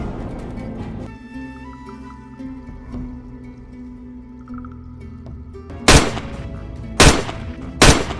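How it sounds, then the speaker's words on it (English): Three sharp, loud gunshots at a wild boar on a California farm crack out near the end, spaced about a second apart, after several seconds of low rumbling background. "their gunfire rang out, felling the boar and preventing another costly rampage."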